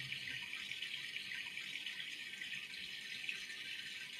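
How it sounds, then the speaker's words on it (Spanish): Water from a waterfall pours down as a continuous soft hiss and patter, faint and even, with no voices over it. "Caminas y te sientas justo debajo de esa hermosa cascada"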